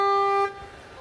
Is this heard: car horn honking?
yes